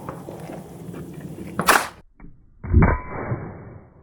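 A handgun fires a CCI Mini-Mag round into ballistics gel, giving one sharp crack, then a brief silence followed by a louder, booming report that decays into a muffled outdoor rumble.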